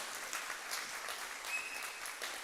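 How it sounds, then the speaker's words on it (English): A church congregation claps through a Mother's Day service, a steady wash of mid-distance applause that holds even throughout, with no single sharp claps standing out. "you guys can clap for that."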